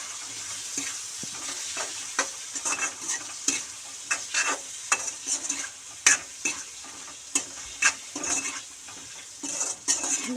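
Chilli powder, turmeric and salt fry with softened vegetables in a pan for sambar, a steady sizzle punctuated by frequent metallic spoon scrapes and taps against the pan.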